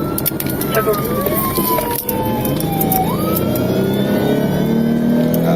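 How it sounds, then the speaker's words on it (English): A police car siren wails during a high-speed chase of an SUV, its pitch sweeping up and down over loud road and engine roar, with the tone rising sharply near the middle and holding steady afterward. "sirens echoing as the SUV rushed toward familiar ground"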